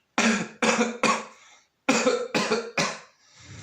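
Two bursts of three harsh coughs each, loud and close, separated by a short pause.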